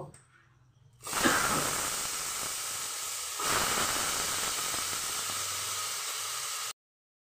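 Potatoes dropped into hot oil with five-spice for a drumstick and potato curry burst into a loud, close hissing sizzle that starts abruptly, swells again midway, and cuts off suddenly, with no talking.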